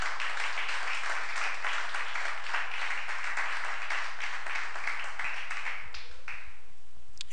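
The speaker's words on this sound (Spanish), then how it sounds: "Dale un aplauso a Cristo Jesús" A church congregation breaks into steady, even applause that continues for several seconds, then thins out and fades near the end.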